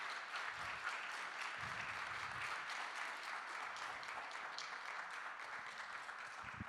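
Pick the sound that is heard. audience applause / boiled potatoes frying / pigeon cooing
audience applause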